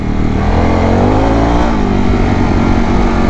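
A Harley-Davidson Pan America motorcycle engine in off-road plus mode roars loud and steady as the throttle opens on gravel, close and continuous with a rising tone partway through.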